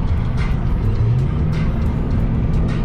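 A truck cruises along a highway with a loud, steady rumble of engine and road noise that fills the whole stretch without a break.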